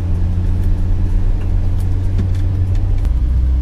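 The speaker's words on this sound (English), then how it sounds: "It's been a while since I've taken the G on a gravel road." An Infiniti G35 car rolls down a gravel road, giving a loud, steady low engine and road rumble with faint crackling tire noise throughout and no voices.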